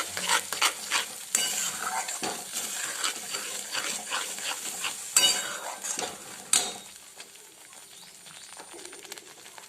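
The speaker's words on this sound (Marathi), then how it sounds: "त्याला पण छान असं तेल सुटेपर्यंत आपल्याला हलवायचं आहे मंदम आचेवर" A spoon stirs paneer masala paste in oil over a medium flame, scraping and clinking against the pan in irregular strokes over a soft sizzle, with a couple of sharper knocks before the stirring quiets.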